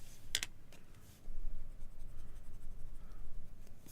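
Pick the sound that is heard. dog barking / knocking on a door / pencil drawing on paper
pencil drawing on paper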